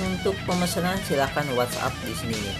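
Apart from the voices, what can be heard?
No everyday noise stands out behind the speech.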